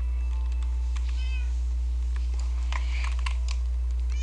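A cat meows in a video game, with several short in-game mews scattered over a steady low hum, alongside keyboard typing and clicks.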